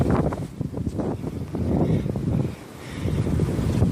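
Wind during Hurricane Michael, heavy buffeting gusts rumbling across the microphone in uneven surges, loud and close throughout.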